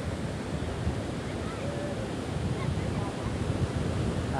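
Sea waves wash continuously onto a long, wide sandy beach, a steady broadband roar of surf with wind rumbling across the microphone throughout.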